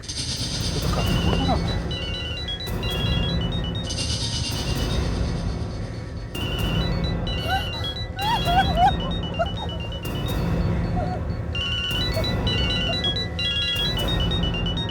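Mobile phone ringtone ringing inside a bag, a repeating electronic melody cycling every couple of seconds. It plays over a busy mix of background music and ambient noise at moderate loudness.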